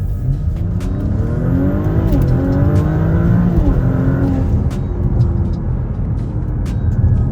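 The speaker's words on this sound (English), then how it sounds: "to engage the rolling AMAX shifts, I simply toggle sport mode and floor it." An Audi S4 (B9) engine revs hard under full throttle in sport mode, pitch climbing through quick uninterrupted gear shifts, loud and close throughout.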